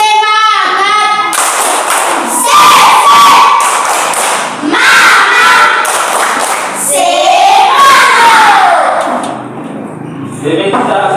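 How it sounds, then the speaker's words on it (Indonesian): Students in a classroom perform a spirited rhythmic clap chant, loud patterned hand claps with chanted voices and shouts over the top, sustained and close, trailing off near the end. "Tepuk semangat."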